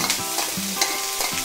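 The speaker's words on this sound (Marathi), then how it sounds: "आता त्या फोडणीवर मी कांदो घालतोय" Finely chopped onions hit hot tempering oil with green chilies in a pan, giving a brief, even sizzle cut by several quick spatula scrapes over about a second and a half.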